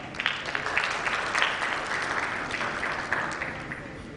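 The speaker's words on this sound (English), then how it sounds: "Round of applause to Dr." Audience at a healthcare summit in Rajasthan applauds the session chair, a steady, dense clapping that fills the room at even loudness from start to finish.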